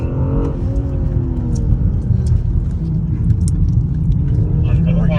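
A BMW car engine on a race track at a track day, a loud, close drone that rises and falls in pitch as the throttle is worked, with a voice talking over it.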